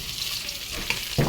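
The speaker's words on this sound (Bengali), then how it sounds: "মাথাগুলো এই মাছগুলো ভাজা হয়ে গেছে, বাকি মাছগুলো এবার এগুলো উঠাই নেবো একে একে।" Pieces of rohu fish fry in hot oil in a pan with a steady, close sizzle, and there is a brief clatter near the end as pieces are lifted out.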